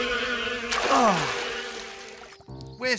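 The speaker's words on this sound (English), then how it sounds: "The bees! Bees?" Cartoon insect buzzing from a swarm of bees in a Bananas in Pyjamas cartoon, a dense whirring drone that swells loudly in the middle, with other cartoon sound effects before and after.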